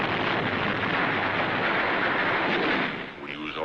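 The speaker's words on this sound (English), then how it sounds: "Hand grenades." Wartime combat with hand grenades going off: a dense, continuous roar of blasts and rumble that stays loud for several seconds, then briefly dips near the end, with no voices.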